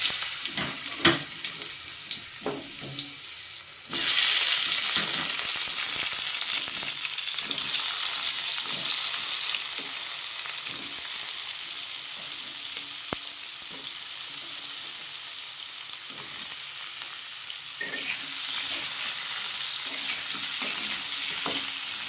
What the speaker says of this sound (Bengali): এইদিকে দেখো তেল তো গরমই আছে, ওই তেলের মধ্যে আমি পটল আর আলুটা